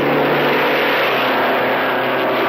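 An Alfa Romeo Grand Prix race car engine, a loud continuous roar held steady and close for the whole stretch.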